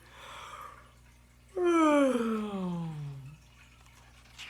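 A voice imitates a long, drawn-out yawn, a single sliding, descending groan that starts breathy and tapers off over about two seconds, close and clear.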